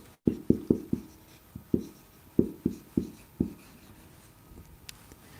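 Marker or chalk strokes on a classroom board, about ten short scratchy strokes in uneven bursts, close and fairly loud, with no talking.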